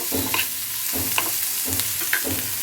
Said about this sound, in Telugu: ఉల్లిపాయలు పచ్చిమిర్చి అల్లం ఇంగువ వేసుకొని వేపాలండి